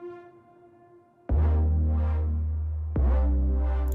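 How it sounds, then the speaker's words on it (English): A song intro opens with a bright synth chord, then two heavy, booming 808 bass hits land about a second and a half apart under pulsing synth swells. "It's kind of a strong intro with a synth and the like 808 bass."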